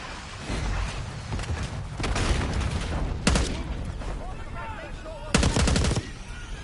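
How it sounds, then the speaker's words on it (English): Mortar blasts and bursts of gunfire erupt in the Call of Duty Black Ops 6 campaign over rumbling combat ambience, with two sharp, loud volleys standing out near the end. "Mortar on the way."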